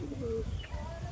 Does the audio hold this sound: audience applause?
no